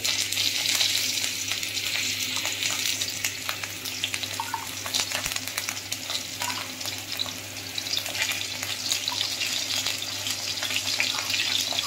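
Stuffed green chilies fry in oil in a wok with a steady, close sizzle that runs unbroken throughout, with no one talking.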